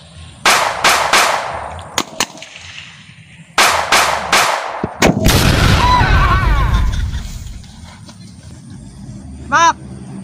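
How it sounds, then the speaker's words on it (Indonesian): Gunfire in a staged military scene: rapid clusters of sharp, loud shots, a heavier blast followed by a rumbling tail, then quiet with voices faintly in the background. "Tembak."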